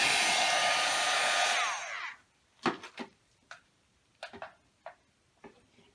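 Heat embossing tool blowing as it dries chalk paste on a T-shirt: a loud, steady airy whoosh for about two seconds that winds down, followed by scattered sharp ticks and taps.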